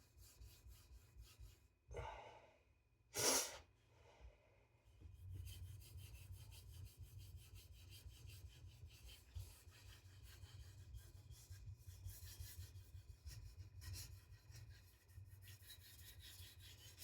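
A Victorinox Chinese cleaver is scraped across a new sharpening stone: a couple of brief rubs, then a long run of quiet, steady grinding strokes close to the listener.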